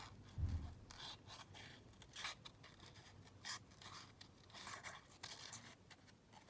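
Scissors cut through paper for a junk journal, close and quiet, giving soft rasping snips and scrapes in uneven strokes with a light thump at the start.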